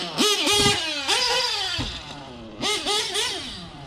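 A Novarossi .25 nitro engine in a TLR 8X-T RC truggy revs up close in several sharp, buzzing bursts with pitch swoops between short drops.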